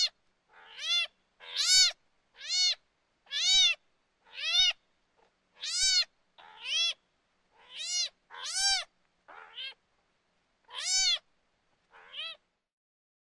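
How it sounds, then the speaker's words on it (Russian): A cat meows over and over, about a dozen clear, loud, drawn-out calls spaced roughly a second apart, with quiet gaps between. "Смотри, кто это? Конечно, кот."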